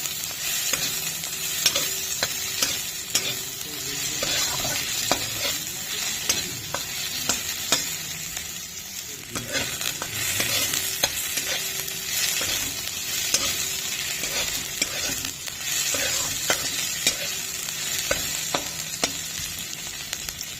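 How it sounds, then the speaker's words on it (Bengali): Onions fried in oil with five-spice (panch phoron) in a pan, with steady sizzling and repeated stirring clicks and scrapes throughout, moderately loud, with no one talking. "পাঁচ ফোড়ন দিয়ে পেঁয়াজগুলো দিয়ে দিলাম"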